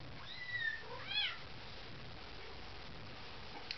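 A foster kitten gives two short, high meows close by early on, then quiet room noise follows.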